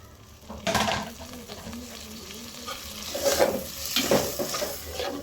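Spices for a goose curry are sautéed in a pan, with a soft sizzle and several scraping, stirring strokes, close but fairly quiet, with a faint voice underneath.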